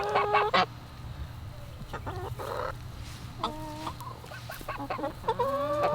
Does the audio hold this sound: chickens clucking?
yes